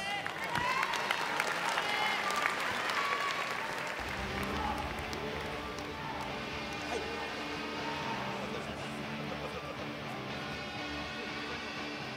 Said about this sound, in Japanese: 盛大な拍手をお願いいたします